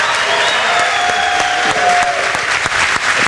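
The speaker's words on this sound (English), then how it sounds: "please give them a huge applause." Loud, dense applause from an awards ceremony crowd at a Formula SAE student engineering competition, cheering for the University of Munich team, sustained and steady throughout with a few sharper claps standing out.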